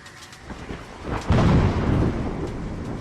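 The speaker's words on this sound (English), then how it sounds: "That was some major thunder." Thunder in the horror game Dread Flats opens with faint crackles, then breaks into a heavy, deep rumbling crash that rolls on loudly before slowly easing, heard alone without voices.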